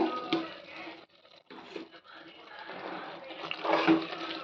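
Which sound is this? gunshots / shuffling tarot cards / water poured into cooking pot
water poured into cooking pot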